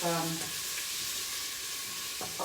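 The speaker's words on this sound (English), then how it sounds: "So I'm going to put the meat in and brown it." Turkey thigh meat sizzles loudly in a hot pan as it browns, a dense, steady frying hiss close by, with a brief voice at the start and faint clatter near the end.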